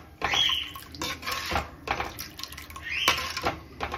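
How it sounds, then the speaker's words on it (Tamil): Cooking water from boiled garlic is poured into a pot of curry, with metallic clinks of a pan and utensil and short splashy pours between them, close and fairly quiet. "அந்த வேக வச்ச தண்ணியே கூட ஊற்றிக்கிறேன்."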